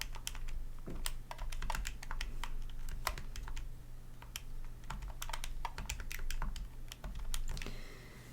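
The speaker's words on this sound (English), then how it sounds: "I'm going to type that in my calculator." Rapid, uneven key presses on a calculator keypad, a steady stream of light clicks close by over a low constant hum, with no talking.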